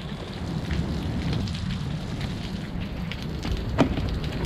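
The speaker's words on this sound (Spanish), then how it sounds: "No deja de llover, es impresionante lo que llueve." Heavy torrential rain pours down during a fishing trip, a dense close hiss of drops on surfaces with a brief louder knock near the end and no speech.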